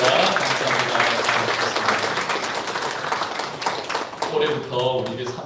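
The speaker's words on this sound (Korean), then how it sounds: "우리 환희 박수 드리겠습니다" Church congregation clapping to welcome a newly registered member during a Sunday service, a steady patter of many hands at moderate level, with a voice talking faintly over it toward the end.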